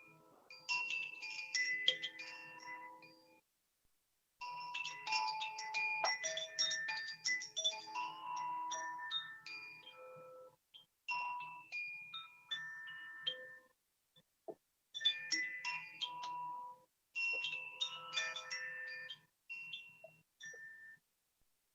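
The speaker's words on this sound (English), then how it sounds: "In different chimes, this aria, Koshi chimes," Bright, bell-like Koshi chime tones ring out in melodic phrases, sustained notes overlapping and fading between short pauses.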